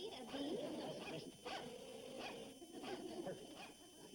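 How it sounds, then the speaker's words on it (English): A hunting dog barks repeatedly at a tree holding a bee swarm in an old TV comedy scene. The sharp yips and barks are fairly faint over steady background noise. "The dog will keep barking and circling the tree while Bobby Joe goes around this way."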